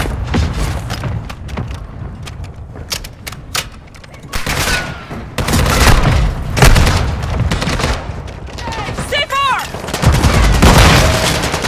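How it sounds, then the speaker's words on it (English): Mortar strike explosions and heavy gunfire in the shooter game DMZ, a dense barrage of booms, thuds and rapid shots in irregular bursts, loud and close, with brief voices in between. "Mortar strike inbound now."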